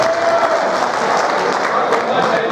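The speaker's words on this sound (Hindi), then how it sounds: "तालियां बजा दें दोस्त एक मरतबा पूरा" Audience applause at a mushaira poetry recital in Riyadh, a steady wash of clapping that fills the whole stretch at even, fairly loud level, with no one speaking over it.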